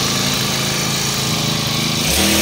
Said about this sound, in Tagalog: 4-stroke po yung ating backpack grass cutter